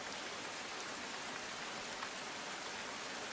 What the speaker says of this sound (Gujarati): જ્યાં આગળ વહેલી સવારથી જે વરસાદ જે ખાબક્યો છે